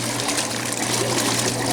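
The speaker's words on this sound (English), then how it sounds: "This is leaking from the drain hose at the bottom." Water leaking from the split drain hose at the bottom of a vintage 1981 Whirlpool washer in a garage, a steady close trickle and dribble hissing continuously under a low machine hum.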